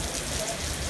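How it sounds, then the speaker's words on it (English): Rain falls steadily outdoors, a constant broad hiss lasting the whole brief moment, with no voices over it. "And it's raining."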